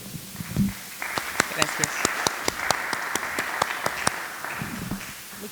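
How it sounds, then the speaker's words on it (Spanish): An audience claps for a doctor at a public health session on mortality from external causes. Distinct sharp claps ring out in a steady rhythm over a background wash, with brief speech before and after the clapping. "Un aplauso para la doctora."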